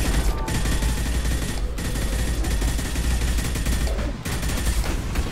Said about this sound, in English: Like a heavy machine gun now.